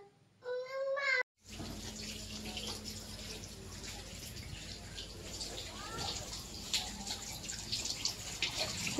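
Tap water running while a wet cloth is washed, a steady splashing flow close by on a rainy day after a brief voice at the start, with faint background sounds.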